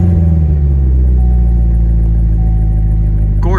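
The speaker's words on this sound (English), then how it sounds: "Let's go ahead and start the car up." A 2015 Corvette Z06 with a 6.2-liter V8 fires up loud and close. Its deep roar eases from an initial flare into a heavy, steady idle rumble, with no talk over it.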